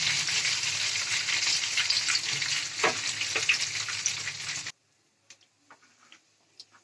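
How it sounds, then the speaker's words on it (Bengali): Masala fish, shol fish among the pieces, frying in hot oil with a steady, dense sizzle for nearly five seconds. It then cuts to quiet, broken by faint scattered ticks and pops. "মশলা ফিশ ফ্রাই আমার রেডি হয়ে গেছে। এবার আমি তেল থেকে এটা তুলে নিচ্ছি।"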